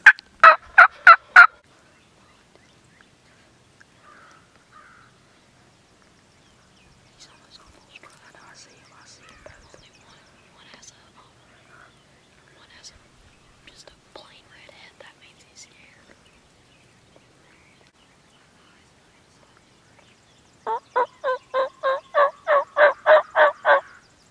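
Wild turkeys gobble loudly in rapid rattling bursts at the start and again near the end while scouting outdoors, with hushed whispering and soft rustling filling the long quiet stretch between.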